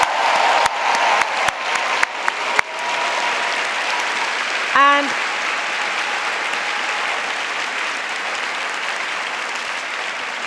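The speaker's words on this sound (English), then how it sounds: "I'd like to hear a big round of applause for every one of them." Large audience applauding honored guests at an evening panel event, opening with a few sharp individual claps that swell into full, steady applause, with a brief spoken word and a whoop partway through.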